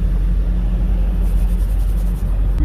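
A warm 1959 Cadillac engine idles with a deep, steady low rumble close by as it is shifted into first gear, the tone staying continuous and loud throughout.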